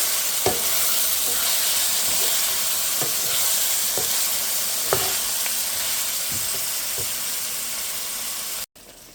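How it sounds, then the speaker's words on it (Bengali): Duck meat frying in hot oil in a pan, with a loud, steady sizzle throughout and occasional soft scrapes as it is stirred. The sound cuts off abruptly near the end, and no one speaks. "আমি এখন আস্তে আস্তে মাংসটা দেবো, আর নাড়া দিয়ে দেবো,"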